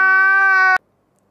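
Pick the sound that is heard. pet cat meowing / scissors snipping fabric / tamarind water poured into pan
pet cat meowing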